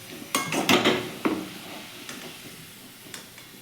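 Chicken sizzling and being stirred in a frying pan, with a few clattering scrapes of a utensil near the start, then quieter frying continuing with occasional light clinks.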